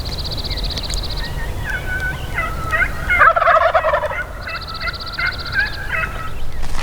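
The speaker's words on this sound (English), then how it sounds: "We just located like 2 or 3 gobblers right across" Wild turkeys gobbling in spring woods, with two or three bursts of rattling gobbles from middle distance, one louder call near the middle, over a quiet outdoor background.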